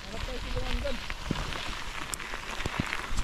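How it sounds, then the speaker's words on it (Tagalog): Heavy rain falls steadily during an off-road bike ride, a dense, even patter around the rider with scattered drips and faint voices underneath. "Sobrang lakas na ng ulan"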